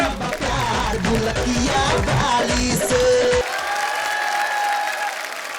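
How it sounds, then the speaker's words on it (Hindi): An audience at a Hindi entertainment show gives loud, enthusiastic applause with some cheering, close and continuous throughout, with tonal musical sounds underneath. "जोरदार तालियां से स्वागत कीजिए"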